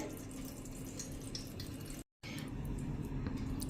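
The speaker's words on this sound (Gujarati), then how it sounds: "આ રીતે જો આપણે પાણી ટપક ટપક બધું નીકળી જાય" Steady trickling, dripping water runs continuously at close range from a thin cloth strainer of yogurt, with a brief silent gap midway before it resumes.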